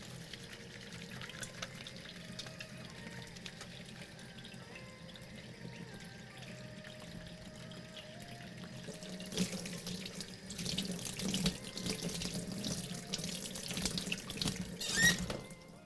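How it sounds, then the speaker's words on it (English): A kitchen sink tap runs while hands are washed clean of spicy food, a soft steady stream that turns louder and splashier halfway through as the hands move under the water. "gonna go wash up really quick."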